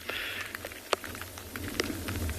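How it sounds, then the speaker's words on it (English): Light rain beginning to fall during an afternoon safari in South Africa, scattered drops pattering on a surface over a soft, steady outdoor hiss. "we were promised rain at 3 o'clock, but 2 hours later it is starting to roll in"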